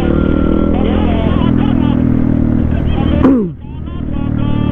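A motorcycle engine drones close by and sweeps past with a quick falling whoosh on a narrow road in Bandung, amid road noise and background chatter.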